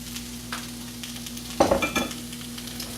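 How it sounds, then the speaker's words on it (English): Vegetables and garlic sauteing in a pan, a low steady sizzle with a brief burst of clattering stirring in the middle, close and fairly quiet with no talk. "you can hear the veggies sauteing"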